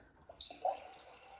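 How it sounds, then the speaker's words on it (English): Water is poured into a Ninja slow cooker holding lentils and spices, a faint close trickle and splash that starts with a few small drips and settles into a soft steady pour. "Now, before I put the meat in, I'm gonna put some water in"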